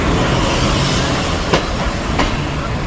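Mahananda commuter train rolling along rails between Khulna and Jessore, a steady loud broadband rumble with two brief sharp clicks midway.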